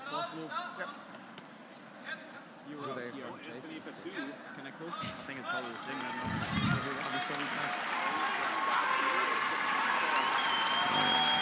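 Spectators at a curling match break into applause that builds from scattered claps into a broad, steady ovation in an arena, with commentators talking over it throughout.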